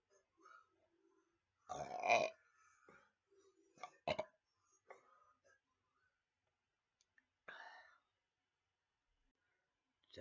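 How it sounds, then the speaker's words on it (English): A person gives a few loud, guttural burps after drinking Coca-Cola, close to the mic, separated by quiet gaps with soft clicks and breaths. "So watch some of my Coca-Cola burps, but I'm not done."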